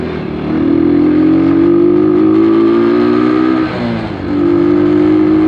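A car drives along a bus lane with a steady, close engine hum that briefly dips midway before settling back to a constant drone.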